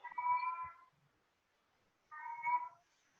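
A cat gives two clear, close meows separated by a short silence, each drawn out and fairly loud, with faint soft sounds in between.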